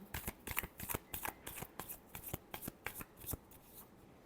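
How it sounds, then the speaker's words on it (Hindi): Tarot cards being shuffled close up, a quick run of crisp riffling snaps with brief pauses between bursts, quiet and alone. "Last shuffle."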